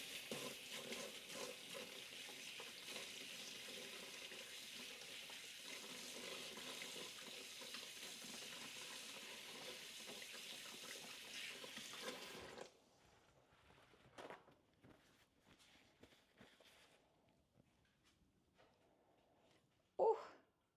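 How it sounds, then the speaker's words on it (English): A tap runs steadily into a sink while hands are washed, a close, continuous splash for about twelve seconds that then cuts off, leaving faint drips and small handling noises. "Let me just wash my hands again."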